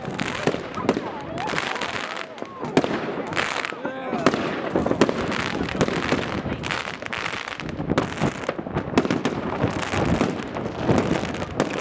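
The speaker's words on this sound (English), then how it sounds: "We knew fireworks were being set off from the two boats, but we hadn't expected such a large display across the whole town." Fireworks launched from two Hurtigruten ships burst over a Norwegian town on a cold winter night, a dense, continuous crackle of bangs and sputtering reports, with wind buffeting and voices murmuring underneath.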